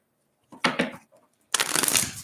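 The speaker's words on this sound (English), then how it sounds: "And one more shuffle, please." Tarot cards are shuffled nearby in two bursts, a short riffling flutter followed by a pause and then a longer, louder run of crisp shuffling.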